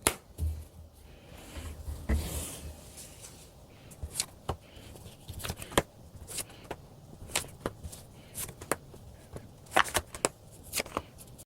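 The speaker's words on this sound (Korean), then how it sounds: "이번 분에게 느끼는 현재 속마음 무엇인지 카드로 한번 뽑아보도록 할게요." Tarot cards are shuffled and drawn by hand, producing a series of sharp riffling snaps and soft slides close by, irregularly spaced over a quiet background with no talking.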